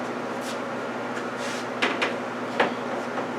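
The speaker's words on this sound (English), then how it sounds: "The drawer opens." A shallow drawer, about an inch deep, slides open on an electronic work table, giving a few short, close clicks and scrapes over steady room noise, with no talking.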